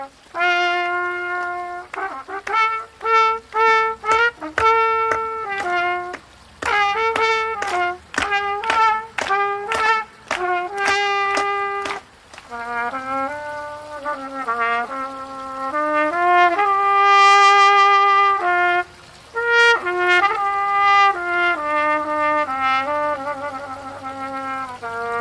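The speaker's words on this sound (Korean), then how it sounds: "트럼펫 연주자 우리 송인국 어르신 모시겠습니다." An elderly trumpeter plays a solo at a senior housing village's fountain installation ceremony: clear, loud sustained notes and quick repeated phrases with short pauses, heard alone without talk.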